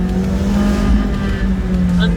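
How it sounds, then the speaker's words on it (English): A McLaren 675LT Spider's exhaust sounds loud and close under acceleration, its steady engine note holding, then shifting as the car changes up through the gears. "When it sounds out of that exhaust on the upshifts,"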